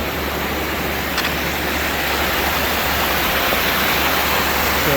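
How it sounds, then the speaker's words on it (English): Steady rain falls as a continuous, even hiss on the Ozark Highlands Trail, with no voices. "Alright, so it's starting to rain on me,"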